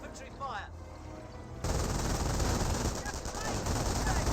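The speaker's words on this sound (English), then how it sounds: "Scope rifle squad here getting suppressed and pinned by the MG42" Rapid bursts of MG42 machine-gun fire in the Company of Heroes battle game, moderately loud and sustained, with other gunfire and battle noise joining in and thickening the din after the first second and a half.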